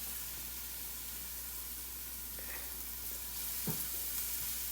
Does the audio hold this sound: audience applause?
no